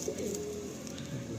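A brief, close, low coo from a male pigeon sounds once, with a faint murmur from other birds beneath it.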